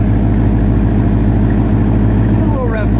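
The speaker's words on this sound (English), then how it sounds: "we'll get a little idle exhaust note" Steady idle of a 2017 Roush Stage 3 Ford Mustang with a Borla exhaust, a loud, even low rumble with pulsing harmonics held close for the whole stretch, while voices talk over it.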